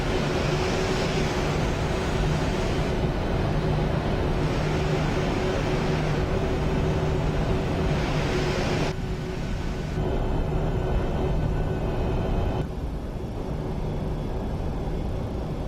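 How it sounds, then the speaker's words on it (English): Boeing 737-800 jet engines in the FSX flight simulator, a steady, loud broadband roar with a sustained tonal whine, running continuously during taxi, with small shifts in level as the camera view changes. "I love the sound of the engines on the 737."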